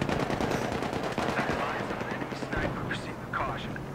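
Rapid bursts of Battlefield 3 sniper and gunfire crackle continuously, overlapping with a voice talking excitedly.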